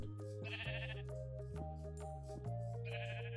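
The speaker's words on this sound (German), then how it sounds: "Schafe." Minecraft sheep give short, nasal bleats in-game, two quick calls near the start and end, set against steady tonal background music.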